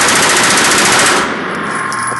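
Rapid automatic gunfire at an indoor Las Vegas shooting range, a loud continuous burst of shots lasting about a second before cutting off into the ringing, reverberant room.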